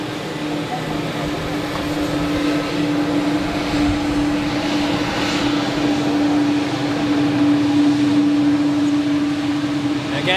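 A KLM airliner at Zurich Airport gives a steady, fairly loud engine drone with a sustained tonal hum throughout, fading little over the whole stretch.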